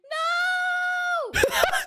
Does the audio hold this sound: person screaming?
yes